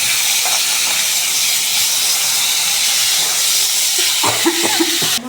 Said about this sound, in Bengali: লাল লাল করে আমি কই মাছটা একটু ভেজে নেব।